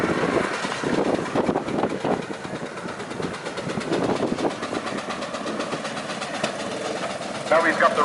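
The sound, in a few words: steam engine running at a show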